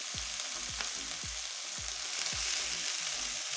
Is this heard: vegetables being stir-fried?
yes